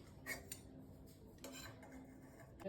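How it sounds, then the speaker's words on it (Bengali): Plates and cutlery clinking softly as rice is served onto a plate in a home kitchen, a few faint, sparse clatters against a low background hum, with no talking. "এই যে আমি এখানে রাহুলের ভাতটা বেড়ে দিলাম"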